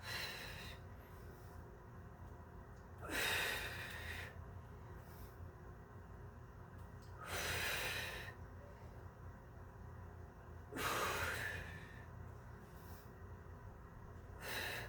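Three slow, audible breaths during an advanced Pilates core and shoulder exercise, each a long airy rush of air spaced a few seconds apart, close to the microphone over a steady low background hum.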